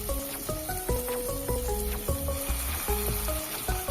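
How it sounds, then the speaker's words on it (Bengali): Poppy seed and mustard paste masala with slit green chillies and Kashmiri red chilli powder sizzles and sputters in a pan for an okra curry, stirred with steady scraping strokes, close and loud throughout. "সেই মশলাটা দিয়ে দিলাম এবং কিছুটা মশলা ধোয়া জলটাও দিয়ে বেশ ভালো করে মশলাটাকে কষিয়ে নিচ্ছি"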